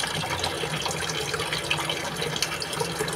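A child rinses and swishes water in the mouth after brushing teeth, with steady running water from a tap filling a sink close by, continuous and unbroken.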